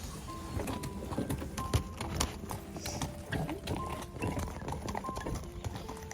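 Rhythmic hoofbeats of a Fjord horse pulling a carriage clopping steadily at a moderate distance, with birds chirping and faint outdoor background noise.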